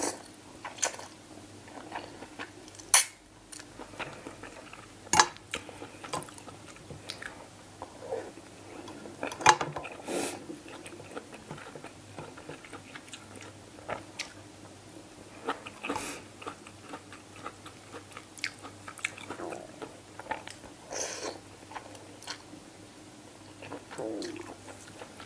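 Close-up crunching and biting of crispy pork rind eaten with a spicy salad of pork sausage and blue crab, with repeated sharp crackles, soft chewing and occasional clinks of cutlery and dishes.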